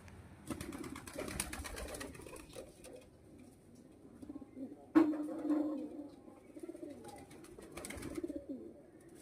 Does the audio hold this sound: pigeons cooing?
yes